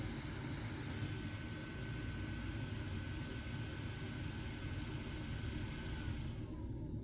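Cooling fan of a handheld gaming PC running loudly, a steady whooshing roar like a jet engine, constant throughout and cutting off abruptly at the very end.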